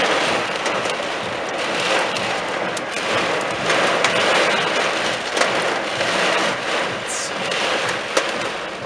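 Heavy rain pours in a dense, steady hiss during an intense thunderstorm at Corte Franca, with scattered sharp drop impacts close by and no clear thunder peak.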